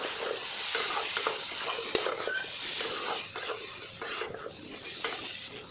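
Spice masala for a taro (kochu) curry is sautéed with lemon in a pan, with rhythmic spatula scrapes over a steady sizzle, close by, and no clear talk.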